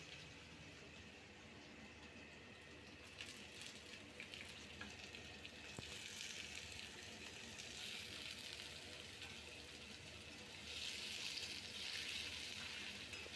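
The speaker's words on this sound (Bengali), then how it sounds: "এবার কেটে রাখা আলুগুলো আস্তে আস্তে সব ছেড়ে দিচ্ছি" Diced potatoes for Bengali pea ghugni frying in a pan, a steady low sizzle running throughout, growing a little louder and brighter toward the end, with no voices.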